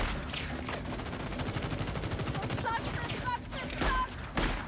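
Rapid pistol gunfire crackles through a video game shootout, with shots clustered in bursts over a dense, noisy battle mix and some voice-like tones near the end.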